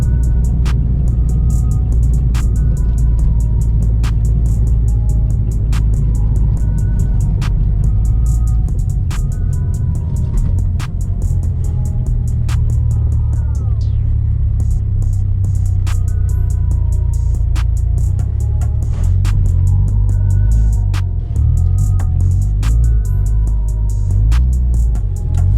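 A truck with air ride suspension drives on a snowy road, its engine and tires producing a loud, steady low rumble with sharp intermittent clicks and ticks throughout.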